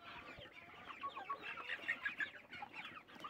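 Hens and a turkey in a Romanian farmyard, clucking steadily in overlapping bursts at moderate distance, with no voices.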